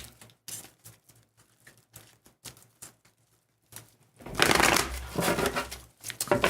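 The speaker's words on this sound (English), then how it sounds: "when I shuffle the cards" Tarot cards being shuffled by hand, starting with soft scattered taps and short rustles, then building into a loud, dense riffling burst in the second half, close to the microphone.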